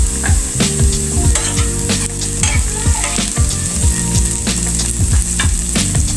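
Chopped onion and four whole green chilies frying in hot oil, a loud continuous sizzle broken by repeated spatula scrapes and knocks against the pan, close by and without speech.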